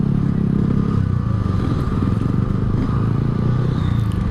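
A Yamaha RX-King two-stroke motorcycle fitted with an Altec C20 exhaust rides along a road, giving a steady, loud, buzzing engine drone with a raspy edge and constant road and wind rumble.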